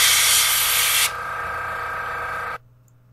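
An airbrush sprays paint onto an Eaglemoss Enterprise 1701-D model, a close, loud airy hiss that softens to a lower steady spray after a second and then cuts off abruptly.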